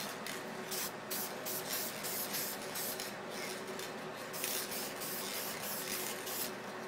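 Aerosol can of Duplicolor adhesion promoter sprayed in a light coat onto a custom Xbox case, a steady close hiss in short bursts over continuous spray.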